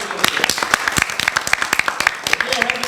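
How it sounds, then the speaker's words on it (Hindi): Children clapping in applause, a dense run of sharp, uneven hand claps, loud and close for several seconds, with talk mixed in. "क्या बात है जी, तालियां तो बजाई दीजिए सभी बच्चे।"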